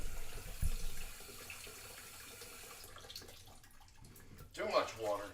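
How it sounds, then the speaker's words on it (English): A kitchen sink tap runs while potatoes are being peeled, a soft hiss of water heard faintly under background noise, ending with a brief splash and squeak as the faucet is shut off. "hold on, gotta turn the sink off."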